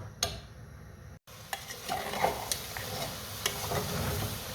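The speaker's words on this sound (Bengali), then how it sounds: "একটু কষুক" Spices and goat head stir-fried in a pot for a chickpea lentil dish, with scraping stirs and soft sizzling, a brief gap near the start, then steady close clatter and frying.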